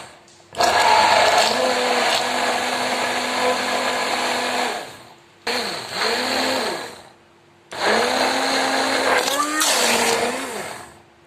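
A kitchen blender mixes mango lassi with curd in three loud whirring bursts, the motor pitch dipping and recovering as the contents churn, with short pauses between runs.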